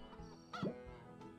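A chicken in the farming game Hay Day gives a short clucking call, a single brief squawk over a soft game background.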